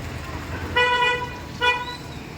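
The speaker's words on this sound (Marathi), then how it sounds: "या ठिकाणी रोडवरून खूप जास्त गाड्यांचा आवाज" Two short, bright car-horn toots sound over a steady low rumble of traffic on a busy main road, during rainy weather.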